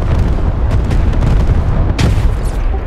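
Mortar artillery barrage in the video game Squad: a dense, continuous rumble of heavy booms and blasts, loud and close, with a sharper burst near the end.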